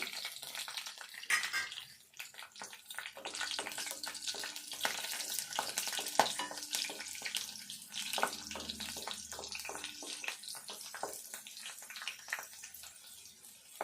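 Garlic and green chillies sizzling in hot oil for a tempering for a spinach fry, a dense steady crackle with frequent small pops, close and continuous throughout.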